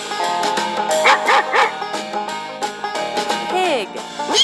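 Several quick barks and yips from a cartoon farm dog in a children's animal game, close and fairly loud over a steady background music bed, with no speech.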